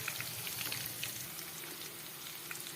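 Curry leaves and turmeric sizzle in hot oil, a steady crackling fry with fine popping spatters throughout, fairly soft and unbroken.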